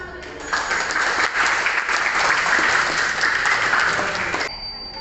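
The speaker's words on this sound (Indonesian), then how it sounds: "tepuk tangan untuk itu" Classroom of children clapping for a presentation, a steady burst of applause lasting about four seconds, moderately loud and close, then cutting off.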